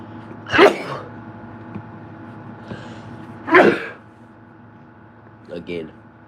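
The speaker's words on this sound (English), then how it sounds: "you hear me keep on sneezing and coughing and everything else" A person with a cold sneezes twice, a few seconds apart, close and sharp over a quiet background, followed by a short vocal sound.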